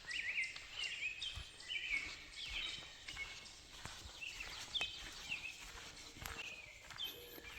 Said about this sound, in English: You can hear there the birds in the background